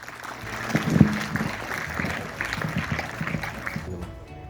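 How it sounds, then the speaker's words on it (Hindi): Applause from an audience at a school World Cancer Day event, a moderate burst of clapping that swells and then fades toward the end. "जोरदार तालियां एक बार अपने निर्देशक सर श्रीमान रघुवीर जी सर के लिए"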